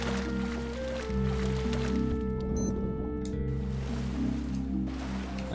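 A character wades into the sea in the survival game Stranded Deep, with a soft liquid squish and splash rising midway over steady, looping game music that continues throughout.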